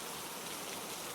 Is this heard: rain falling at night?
yes